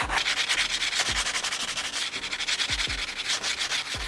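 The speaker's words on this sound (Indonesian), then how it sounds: "Ini amplas merah ini fungsinya untuk mengamplas permukaan yang kurang rata." Red sandpaper rasps back and forth by hand over an uneven surface on a door being made, in quick, regular strokes, a close, gritty scratching rhythm with no voices.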